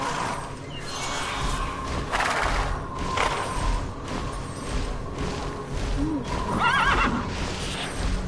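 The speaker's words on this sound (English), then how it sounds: "It's a flying horse thing, though." A flying horse mount in the video game TERA lets out a loud whinny near the end, over a busy mix of game effects, swooshes and thuds that continue throughout.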